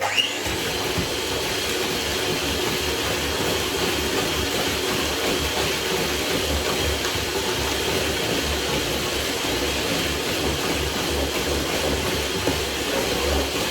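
An electric kitchen mixer whirs steadily while blending baking ingredients at home, a constant motor drone with no break across the whole stretch.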